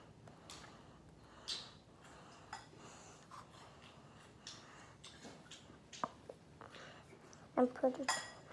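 A knife spreads peanut butter and jelly on a sandwich, with soft scraping and scattered sharp clinks of metal against a jar or plate, growing into a quick cluster of louder clinks near the end. Close and quiet, with no speech.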